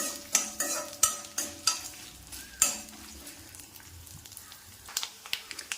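Urad dal and small shallots frying in oil for jackfruit thoran, with a steady crackling sizzle broken by repeated sharp scrapes and knocks of a spoon stirring against the pan.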